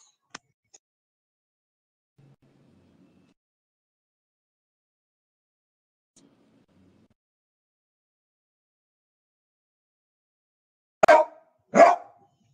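Two sharp dog barks close together near the end, after a long near-silent stretch with faint scattered noises.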